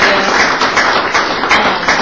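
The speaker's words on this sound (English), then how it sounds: "Let's give them a round of applause." Close, loud applause from a room gathered for a basketball signing event, many hands clapping in a dense, steady burst for the player's parents.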